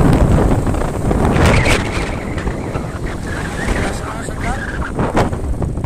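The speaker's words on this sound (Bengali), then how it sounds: "আমার বাইক চালাইতেছে কাকা" Buffeting wind roars over the microphone during a motorcycle ride, with a continuous engine drone underneath and occasional muffled voices.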